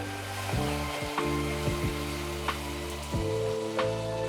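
Spice masala for banana flower curry fries in oil, a steady close sizzle with occasional utensil clicks over a low hum, and no talk.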